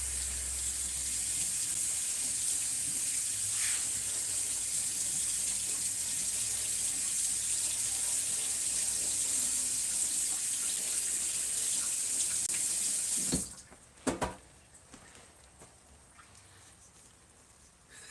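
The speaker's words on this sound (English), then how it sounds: "I'm gonna wash my hands again." Hands being washed under a running kitchen tap while cooking meatball stew, a steady hissing stream of water for about thirteen seconds before it shuts off, followed by a few brief knocks and splashes.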